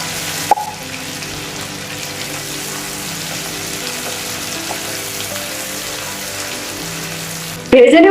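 Chili, garlic and ginger paste frying in a pan after onions, giving a steady sizzle throughout, with a faint voice and clatter near the end.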